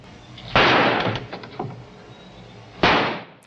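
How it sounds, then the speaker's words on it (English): Two loud, sharp gunshots ring out in a Wild West gunfight from classic Doctor Who, the first followed by fainter echoing pops and a short pause before the second blast, which decays into near silence. "allowing Doc Holliday the opportunity to shoot him down"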